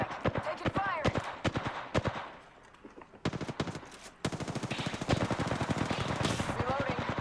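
Rapid automatic gunfire in a shooter video game, loud bursts of closely spaced shots with brief pauses between, near and dominant, with game voices or callouts mixed in.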